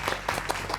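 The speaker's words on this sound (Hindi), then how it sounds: "एकरा ला रहुआ ताली भी बजा सकते हैं अपना।" Brief studio-audience clapping on a Bhojpuri television game show, a handful of distinct claps in quick irregular rhythm over a low steady hum.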